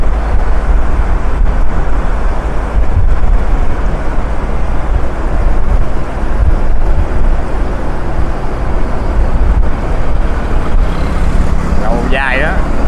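Strong wind across a long bridge over a river near Hanoi, a loud, constant buffeting roar pounding the microphone throughout, with a voice briefly starting near the end.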